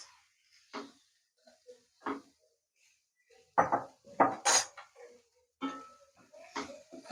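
Cooked noodles are tossed with cabbage, onion and carrot in a pan for veg hakka noodles, giving scattered close clatters and scrapes of a utensil against the pan, separated by quiet pauses.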